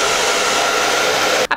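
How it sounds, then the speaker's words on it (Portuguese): A hair dryer blows with a loud, steady whooshing roar close by, drying a layer of liquid latex makeup, then briefly cuts out near the end. "Para secar mais rápido, eu vou usar o meu secador."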